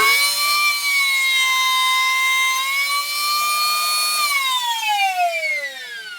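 A router bit cuts a chamfer into a wooden mallet, giving a loud, high, steady whine that holds its pitch and then sinks lower as the cut finishes.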